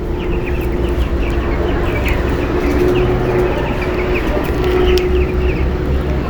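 Chickens on a poultry farm cluck in scattered, faint calls over a steady, constant background hum, with no one talking.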